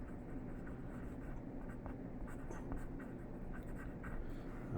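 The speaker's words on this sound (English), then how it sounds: "we can just write orange" A marker writes on paper in a steady scratchy stroke, close and quiet, with a faint low background hum throughout and no speech.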